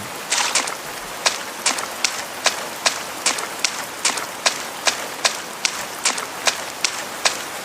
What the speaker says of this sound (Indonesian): Gila ini sound effect hujannya keren loh ini game.